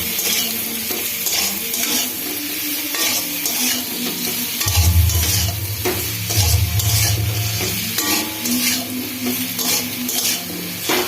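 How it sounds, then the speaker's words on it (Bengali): A salted mixture is stirred in a frying pan as it sizzles loudly and steadily, with repeated metal spoon scrapes and clinks against the pan, close and continuous, without talk. "এবার সেটা একটু নাড়বো"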